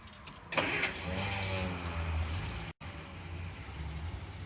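A 1953 Hudson Hornet engine with automatic transmission starts with a brief whir and settles into a steady, low, even idle, close by and continuous with no talking.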